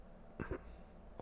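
A near, soft throat clearing, a brief guttural burst followed by a second short rasp and a faint catch at the end, during a quiet, close-miked ASMR ramble about Chelsea football.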